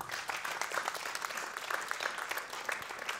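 A stand-up comedy audience applauds steadily, a dense, even clapping that continues unbroken for about three seconds at moderate loudness, with faint voices beneath.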